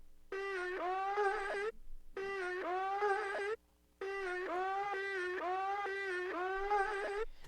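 A dry, plain keyboard synth plays short phrases of gliding, wavering tones, with brief pauses between them.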